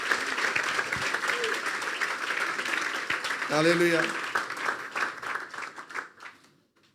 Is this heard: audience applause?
yes